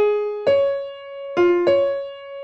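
A single violin line from the opening of the final movement of Tchaikovsky's Sixth Symphony, the Pathétique, plays alone: sustained bowed notes that step between pitches with clear attacks, sounding close and clean.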